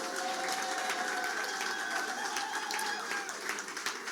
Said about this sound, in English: Give a big round of applause for Owen and Ryder.